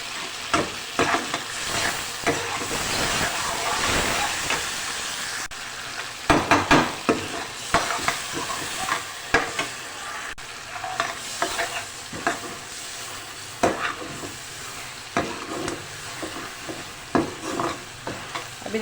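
Tomato and turmeric masala with potatoes frying in oil, with close, steady sizzling and repeated stirring scrapes and clatters of a spoon in the pan throughout.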